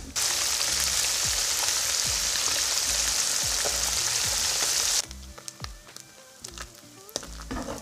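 Sprat fish frying in oil in a pot on an indoor stove, a dense loud close sizzle with crackles that suddenly drops to quieter scattered pops and spits.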